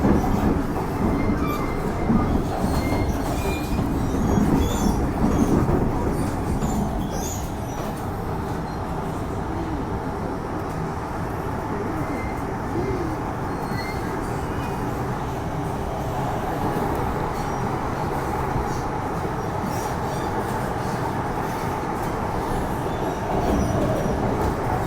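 Continuous rumble of an MTR Island Line M-Train in motion in Hong Kong, heard from inside, with steady clatter and faint wheel squeal throughout, no voices.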